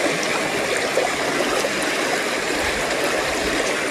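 Clear water runs down a rain-fed mountain stream, a steady close rushing and trickling with no voices over it.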